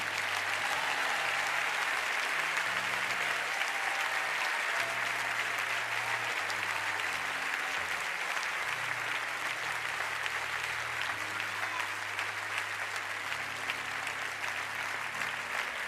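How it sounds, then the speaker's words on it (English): Church congregation clapping at a Sunday service at New Birth Missionary Baptist Church, sustained applause for about sixteen seconds with an organ or keyboard playing low notes underneath. "As long as they come and keep clapping."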